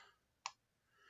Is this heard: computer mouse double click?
yes